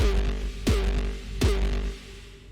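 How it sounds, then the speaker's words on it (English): A Sigh style 2 synth preset from the DOOMSDAY Serum pack plays alone, sustaining a steady bass-heavy tone with two sharp swooping hits that dive downward in pitch, one near the start and one midway. "Sigh style 2."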